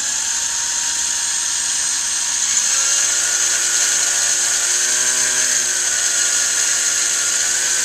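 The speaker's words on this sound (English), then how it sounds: "Just letting the drill do the work, not pushing at all." A drill runs continuously with a high, steady whine, its pitch dipping and shifting slightly as the bit works slowly through brittle plastic on a lamp.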